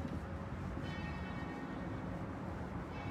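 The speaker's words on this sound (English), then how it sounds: "And the bells are ringing, so that's very nice." Church bells ringing near a tower in Jerusalem, a steady, distant-sounding wash of tolling under broad outdoor ambience, without talk.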